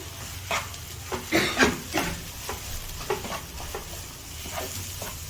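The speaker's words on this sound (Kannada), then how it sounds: "ಕಾಯಿ ತುರಿ, ಈರುಳ್ಳಿ ಮತ್ತು ಸೋಂಪು ಮಿಕ್ಸ್ ಮಾಡ್ಕೊಳ್ತಾ ಇದ್ದೀನಿ." Grated coconut, onion and fennel being stirred together in a bowl for squid stuffing, giving soft scraping and clinking stirs in uneven bursts, close up, against a light steady hiss.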